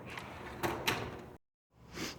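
A tool box drawer slides shut with a short rolling rumble and a couple of knocks, then brief silence before another faint movement.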